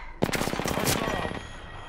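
Rapid automatic gunfire in the video game Apex Legends, a dense burst of shots lasting over a second that starts abruptly, then fades into a lingering tail.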